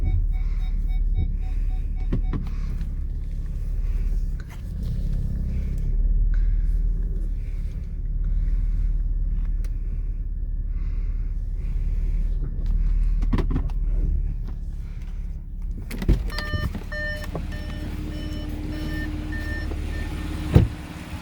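An Audi with a 3.0T engine idles steadily as it is positioned near ramps for an oil change, a continuous low rumble with a few brief clicks and thumps toward the end.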